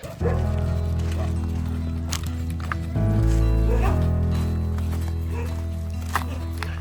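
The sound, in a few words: pack of dogs barking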